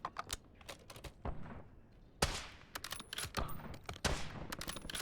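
Gunfire in the video game Warzone comes in quick, sharp bursts and single cracks, irregular and punchy, with a couple of louder volleys standing out over a quieter background.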